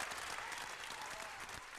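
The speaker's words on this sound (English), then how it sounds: "Give that man a round of applause." Audience applause from a talk show studio crowd, a continuous patter of many hands clapping, fairly faint and even in level across the short stretch with no voices on top.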